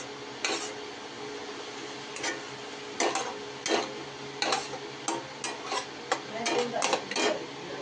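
Spatula strokes stir a veg biryani mixture of red chillies, coriander, chilli masala and coriander powder in a pan. Repeated close scraping clatters ring out over a faint sizzle, with no one speaking.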